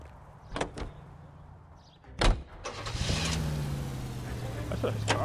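A car in the LA Noire video game: two sharp door clunks come first, then an engine turns over and settles into a steady running drone that carries through the rest, with a voice briefly heard.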